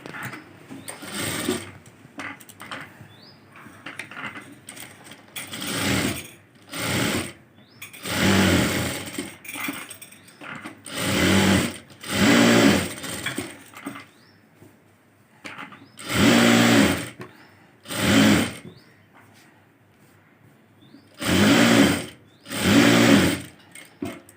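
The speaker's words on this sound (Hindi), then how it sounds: "इस तरह से उल्टा करके हम किनारे किनारे पे सिलाई कर देंगे" A sewing machine stitches along the edges of a blouse in repeated bursts of rapid mechanical whirring, each run lasting a second or two and broken by short pauses.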